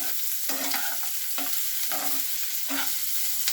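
Onions frying toward golden brown, a steady broadband sizzle with a spoon scraping and stirring the pan in regular strokes roughly every second, close and continuous with no talking.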